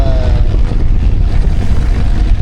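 A long-tail boat carries riders near Phi Phi Island, its engine rumbling loud and steady under heavy wind buffeting against the microphone, with no talking.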